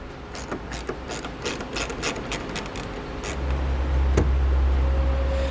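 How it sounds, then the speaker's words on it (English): A ratchet driver fitted with a T20 Torx bit clicks in quick uneven bursts while backing out a tie-down hook screw inside a 2018 Dodge cargo area, followed by a louder steady mechanical whir near the end. "you're going to want to grab a T20 Torx bit and pull that out"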